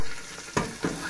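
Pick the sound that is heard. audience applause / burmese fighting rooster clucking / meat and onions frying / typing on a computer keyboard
meat and onions frying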